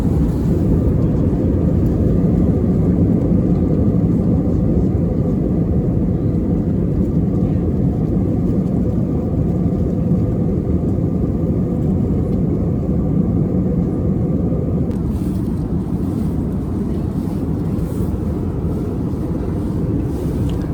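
Cabin of an EasyJet Airbus A321neo cruising from Gatwick to Malpensa: a constant, dense low roar of engines and airflow with no breaks, steady and enveloping throughout.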